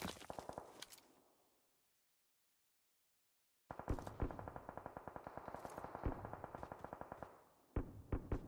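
Gunfire in a battle royale esports grand final match, with a short burst of shots, a silent gap, then sustained rapid automatic fire with echoing, punchy reports and a few closer blasts near the end.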